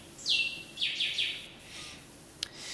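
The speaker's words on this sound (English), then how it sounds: "I'm gonna stop worrying if there's birds chirping or planes flying by" Birds chirp outside: a few sharp, quick descending chirps in a short burst and then a single later note, fairly faint against a quiet background, with no talking.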